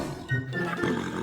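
A lion roars in a cartoon scene, a deep sustained growl that rises sharply and holds, loud and near, with no voices over it.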